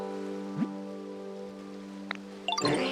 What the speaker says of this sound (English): So I have the power to make it rain.